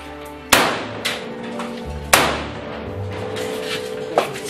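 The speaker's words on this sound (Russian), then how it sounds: "Давай, работай по патронам. Два выстрела," Two loud, sharp gunshots ring out about one and a half seconds apart during a separatist shooting drill in Donbass, each with a short echoing tail, followed by fainter metallic clicks and handling noise.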